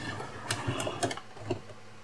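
Sewing machine stitching along the top edge of a retro apron, a close mechanical whir with light ticking pulses and small irregular clicks over about two seconds.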